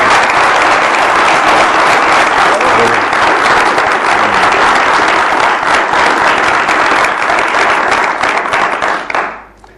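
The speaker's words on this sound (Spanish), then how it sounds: "Demos un aplauso antes de entrar a la pregunta." A studio audience at a Chilean Canal 13 Cable interview program gives sustained applause, a dense and loud wash of clapping that continues steadily for about nine seconds before quickly dying away.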